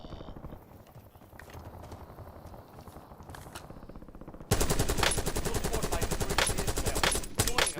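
Automatic gunfire in Call of Duty Warzone, set in Verdansk: quieter scattered shots and game ambience at first, then a sudden loud, dense burst of rapid fire that continues for the last few seconds.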